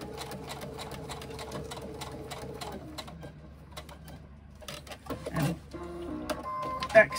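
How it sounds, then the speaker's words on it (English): A sewing machine stitches down the side of a pocket, a fast, even mechanical chatter that slows and stops partway, followed by handling clicks and a faint voice. "Keep sewing down the side of the pocket."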